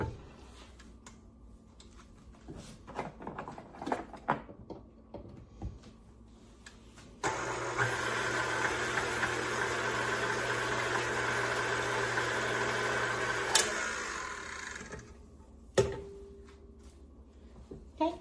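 A stand mixer spins sourdough starter into liquid for a bacon cheeseburger pizza crust, a steady broadband whir that starts abruptly partway in, holds for several seconds, then cuts off, with faint kitchen clatter before and after.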